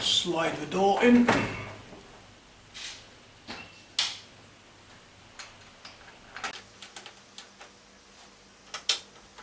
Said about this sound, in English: Slide the door in.